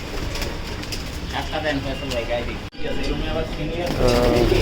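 Racing pigeons coo softly in low, rolling calls beneath ongoing talk and background noise during rain, with a brief dropout partway through.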